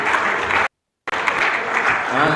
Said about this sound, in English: Please, a round of applause for them once again.